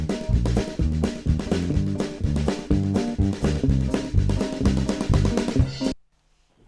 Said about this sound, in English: So I end up coming with a bass line that sound like this.